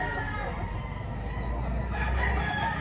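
Gamecocks kept for fighting crow and cluck together at a crowded cockfighting-bird sale, with loud, overlapping calls running steadily through the whole stretch over busy background noise.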